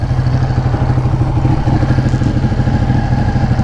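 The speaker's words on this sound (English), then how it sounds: "And we're going to go ride the Ducati." A Ducati Panigale 1199 motorcycle engine runs steadily and loudly nearby in cold weather, a low pulsing drone with a constant throb and no speech.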